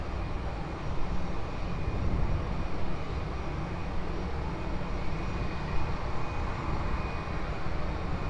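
A jet airliner roars steadily on its landing approach to runway 20 at Lisbon Airport, a continuous broad engine rush with a thin high whine holding throughout.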